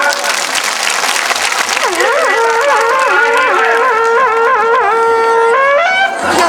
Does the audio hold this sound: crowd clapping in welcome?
yes